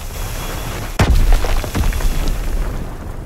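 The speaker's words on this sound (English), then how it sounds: "Dropping Azon bomb." An Azon guided bomb from the WWII-era game Call of Duty: WWII explodes in one sudden loud, close boom, followed by rumbling debris and scattered battle noise, with no talk.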